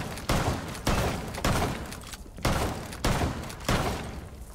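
Gunfire in the video game Rainbow Six Siege on the Border map, five loud, sharp shots spaced roughly a second apart, each with a short decaying tail, close and with no voices.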